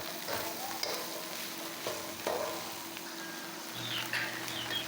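Ground pork with sliced carrots and potatoes is stirred in a frying pan, a continuous soft sizzle under occasional scraping strokes of the spoon, close and moderately quiet.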